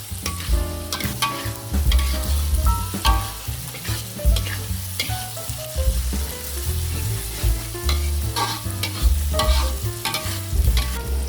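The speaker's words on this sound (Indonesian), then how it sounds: "Lalu tumis bumbu dan ikan terinya benar-benar matang." Spices and dried anchovies (ikan teri) stirred and frying in a wok, with a steady close sizzle and repeated scraping of the spatula, continuous throughout and with no talking.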